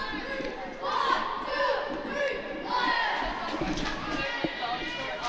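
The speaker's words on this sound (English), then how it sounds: "And the Lions are coming out with a cheer." A Pee Wee youth hockey team, the Lions, cheers as a group in an ice rink, shouting voices swelling in waves with bangs and thumps in the background.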